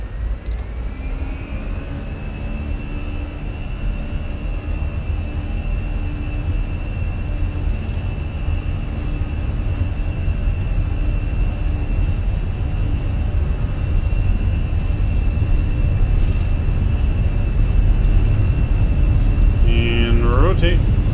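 Airliner engines in Microsoft Flight Simulator, an easyJet or Ryanair A320 or 737, spool up to full takeoff thrust, a loud rising roar with a steady whine building over twenty seconds while a voice talks over it.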